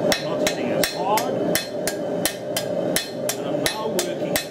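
Steady, evenly spaced hammer blows ring out on hot steel as a knife blade is forged and its taper flattened, about ten sharp metallic strikes in under five seconds, close and loud with no talking.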